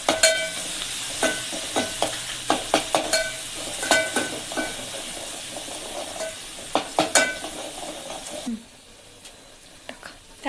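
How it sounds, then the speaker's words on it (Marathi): Coconut, garlic, coriander and ginger paste stir-fried with onion for egg curry, giving a steady sizzle broken by repeated scraping stirs up close, easing to a quieter hiss near the end. "त्याच्यामध्ये आता आपण हे खोबरं, लसूण, कोथिंबीर,"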